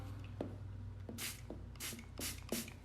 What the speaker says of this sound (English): I'm going to spray it a little more.